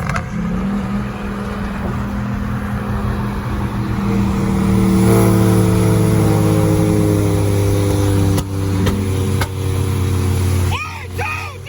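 Ford Mustang 5.0 engine droning loud and steady from inside the car during a ride-along, its pitch climbing gradually as it revs, with people talking over it and a few sharp knocks near the end.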